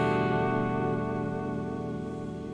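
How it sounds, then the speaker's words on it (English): Sustained electric guitar chords with whammy bar bends ring out through reverb and delay in an 80s style tone, a loud, continuous wash that slowly fades, played alone without talk. "play some lovely chords with the bar and... And maybe without the chorus. Yeah, reverb and delay"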